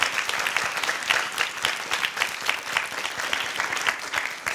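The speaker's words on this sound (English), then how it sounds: "I think we give them a round of applause." Steady, dense crowd applause for contenders at a corporate job-pitch competition, continuous clapping from many hands with gentle swells and no voices.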